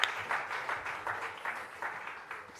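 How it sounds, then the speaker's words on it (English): Faint, distant audience applause at a diaspora conference launch event, a soft steady patter of many hands clapping with no voices on top. "please give Mr. Taquain another round of applause"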